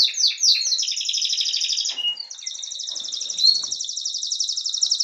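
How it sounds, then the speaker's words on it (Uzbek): A pet canary sings a loud, close trilling song that runs the whole time in bright rapid warbles and rolls, with a brief break near the middle before it carries on alone. "Kanareykacha sayrayapti."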